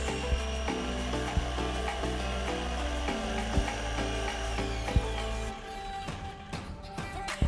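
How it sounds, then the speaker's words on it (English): A jigsaw cutting wood: loud rapid buzzing from its reciprocating blade, close by, with rhythmic thumps, then the motor winds down near the end into small handling knocks. "I love the laser line on the jigsaw"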